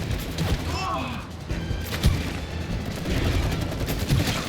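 Gunfire in the video game It Takes Two, aimed at a chain: a run of rapid crackling shots and bursts of game effects under excited talk.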